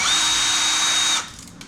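A power drill runs steadily for about a second, driving out screws from the stereo unit of a 1996–98 Jeep Grand Cherokee, then cuts off into a quiet room.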